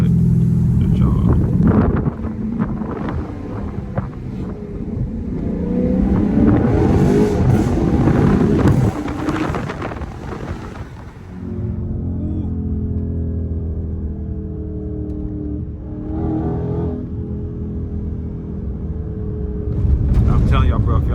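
Straight-piped Dodge Scat Pack rumbling loudly while driving, a deep throbbing exhaust that surges and then settles into a steady drone, with someone talking over it.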